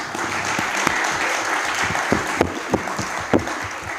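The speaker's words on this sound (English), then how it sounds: "I think that a little applause is called for" Audience at a moot court competition claps, a steady wash of applause with a few sharper individual claps standing out toward the end.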